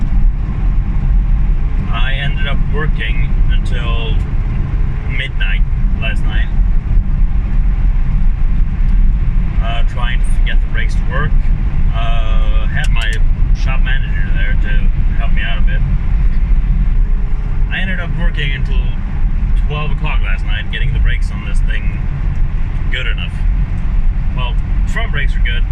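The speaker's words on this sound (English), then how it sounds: "So I'm driving the new car." A red Ford MK1 car drives along with a steady low engine and road rumble, loud and continuous, while someone talks over it throughout.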